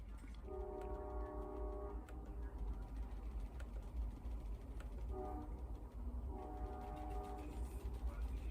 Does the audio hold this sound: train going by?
yes